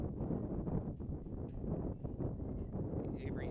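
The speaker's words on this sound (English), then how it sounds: "You can really hear the wind." Heavy wind buffeting the microphone in the stands at a softball game, a continuous low rumbling roar with gusty fluctuations that never lets up.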